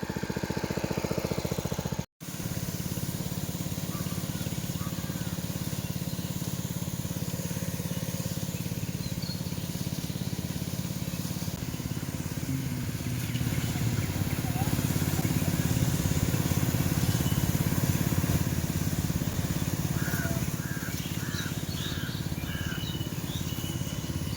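The engine of a sprayer machine used on mango and lychee trees runs outdoors in a loud, continuous motor drone, steady apart from one brief cutout near the start, with faint birds calling in the background.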